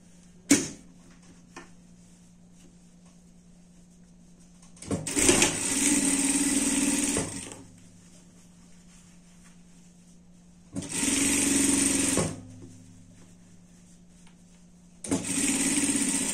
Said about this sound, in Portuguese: E vamos passar uma costura por tudo